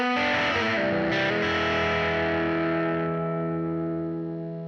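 A distorted electric guitar plays a quick blues lick, then lets a final chord ring out and slowly fade.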